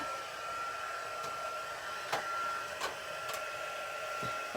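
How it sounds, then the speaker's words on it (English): An embossing heat tool blows a steady, close airy hiss with a constant whine held throughout, broken only by a few faint clicks. "So I am going to go ahead and start my heat tool so it's nice and hot."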